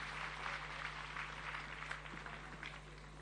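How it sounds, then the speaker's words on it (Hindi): Audience applause at a stage event honouring a senior Rajasthan government IAS officer during a Jain religious discourse in Jahazpur, a moderately loud, steady clapping from a gathered crowd sustained throughout with a low mains hum underneath. "तालियां नवीन जैन सर के लिए।"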